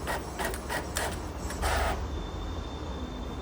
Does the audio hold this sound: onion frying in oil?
no